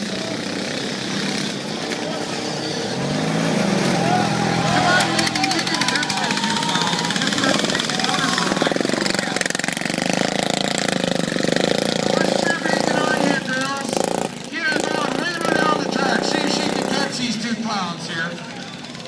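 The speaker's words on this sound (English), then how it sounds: "Good example what these lawnmower guys can do." Stock lawn mower engines racing at an outdoor heat in Kindersley, droning steadily and overlapping as the machines circle a track, with engine pitch rising and falling. A commentator talks over the engines throughout.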